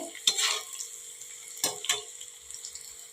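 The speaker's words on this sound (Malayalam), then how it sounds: "ഈ ഒരു കടച്ചക്ക ഫ്രൈ നന്നായിട്ട് ഒന്ന് മൊരിഞ്ഞ് വരുന്നുണ്ട്" Close sizzling of oil as breadfruit slices fry into crispy chips, with a few sharp scraping stirs, pauses of quieter crackle between them.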